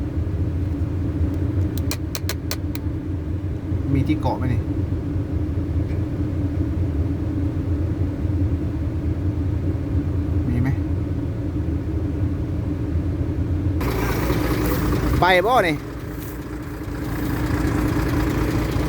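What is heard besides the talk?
tractor engine straining under heavy load in a video game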